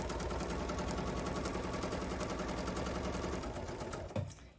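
A sewing machine fitted with a straight stitch plate runs steadily while piecing a quilted bag, a fast even whir and needle chatter filling the clip before stopping abruptly near the end.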